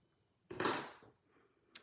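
Scissors snip through ribbon while a folded greeting card is being finished, giving one close, crisp cutting burst that fades, followed by a short sharp click.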